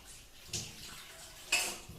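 Water splashes into a pot of fish curry in two short, quiet bursts over a low background hiss.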